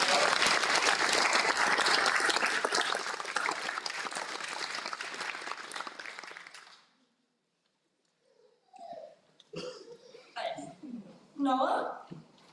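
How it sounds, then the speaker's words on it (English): Audience at a Raglan Area senior prizegiving claps loudly and steadily for new student leaders for about seven seconds, then the clapping stops and a few voices speak briefly. "Let's give them a big round of applause as they take."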